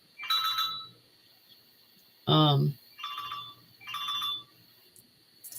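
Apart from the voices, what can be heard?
phone ringing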